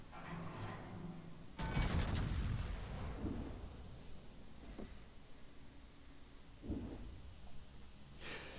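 Battleship Massachusetts main guns firing in World of Warships, two heavy booming salvos with long rumbling tails over a steady low game background, one early and a second some seconds later.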